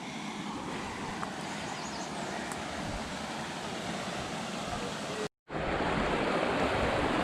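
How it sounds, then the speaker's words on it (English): A waterfall on Little Elk Creek in the Black Hills of South Dakota gives a constant, broad rushing roar, steady and fairly close, broken only by one brief dropout. "every time you hear the waterfall sound,"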